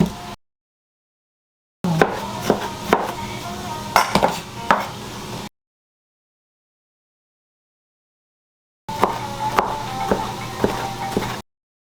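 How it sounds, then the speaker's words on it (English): A knife chopping onions on a cutting board in two bursts, a quick series of close, sharp knocks with brief pauses between them. "We're going to chop the onions."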